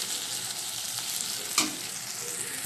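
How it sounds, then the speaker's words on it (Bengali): Eggplant frying in a pan for a katla fish curry gives a steady, close hiss of sizzling oil, with one brief clatter partway through. "তো বেগুনটা অনেকটা ভাজা ভাজা হয়ে যাচ্ছে"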